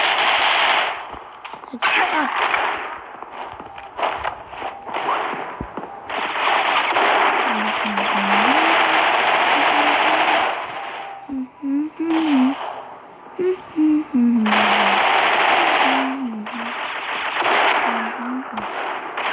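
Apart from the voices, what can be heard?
machine gun fire in the video game Critical Ops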